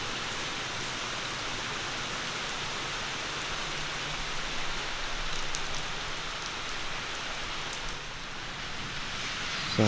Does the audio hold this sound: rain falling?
yes